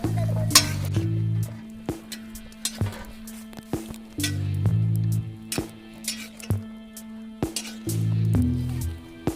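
Spoon scrapes and clinks repeatedly against a pan while stirring Kerala-style beef fry, close rhythmic strokes with faint sizzling, over a steady low hum and brief bits of other noise.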